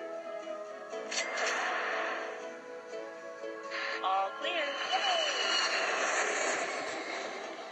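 Cartoonish airplane engine sounds from the airport video game Airport Mania, a steady synthetic drone with gliding tones and chimes over game music, moderately quiet.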